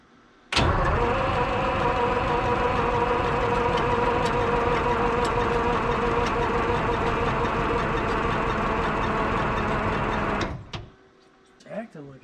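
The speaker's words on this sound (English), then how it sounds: "I gotta do some more cranking here and see if I can get it to pull fuel" A Detroit Diesel 12V71 in a 1973 Peterbilt 352 cabover, long unused, cranks loudly and steadily for about ten seconds with a rhythmic starter-driven churning, then cuts off abruptly, followed by a brief rustle.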